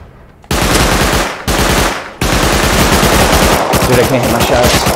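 Loud rapid automatic gunfire comes from the game Rust on console, in three long sustained bursts with short gaps between them, close and dense.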